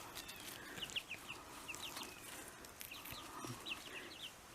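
Chickens and a rooster cluck in short, scattered bursts at moderate distance, the calls coming in two loose clusters over a steady background hiss.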